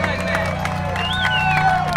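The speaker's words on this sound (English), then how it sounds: "how about a big round of applause for your 2014 Mighty Modified champion" A speedway crowd claps and cheers over loud race car engine rumble and a voice on a loudspeaker, busy and fairly close.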